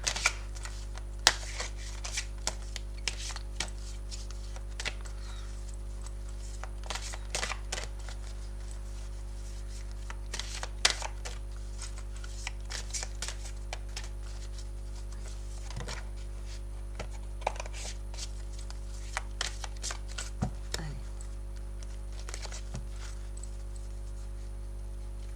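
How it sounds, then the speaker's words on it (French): Tarot cards shuffled and drawn by hand at close range, a run of crisp papery riffles and light slaps and taps in irregular bursts over a steady low hum, with no talking. "avant de lire, on va quand même aller tirer une carte, c'est mieux"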